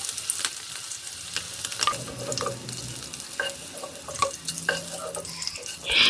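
Eggs frying in hot mustard oil in a pan over low to medium flame, a steady close sizzle with scattered crackles and pops, and no voices.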